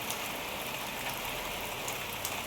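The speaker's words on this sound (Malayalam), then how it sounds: "കണ്ടില്ലേ ഈ മഴ ഇങ്ങനെ പെയ്യുക, ഒരു രക്ഷയില്ലാത്ത മഴയാണ്" Heavy rain pours down in a steady, dense hiss that stays loud and even throughout, with no voices or other sounds breaking through.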